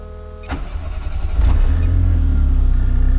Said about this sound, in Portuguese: Eu vou dar uma partida para vocês.